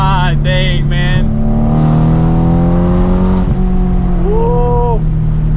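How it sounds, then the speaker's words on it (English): A BMW E92 M3 with an aftermarket exhaust revs up close, with sharp blips and a sustained rising rev, loud and clear, while someone speaks briefly over it. "this exhaust just like makes the car alive"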